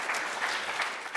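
Church congregation gives a short round of applause for a couple's 50th anniversary, a soft, brief patter of clapping heard from a distance.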